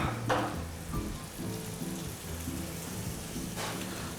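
Cabbage sweating in a hot pan gives a steady, crackling sizzle with sharp spits and pops near the start and again toward the end. Soft clatter and low background sounds run beneath, and no one speaks.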